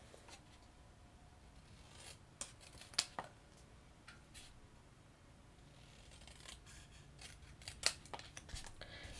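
Scissors snip through a piece of paper card in a quiet room, with a few sharp, separate cuts and soft rustling of the paper between them.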